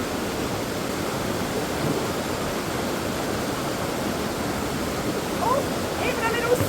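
A Welsh waterfall rushes in a constant, dense roar of falling water, close and filling the scene, with brief faint voices near the end.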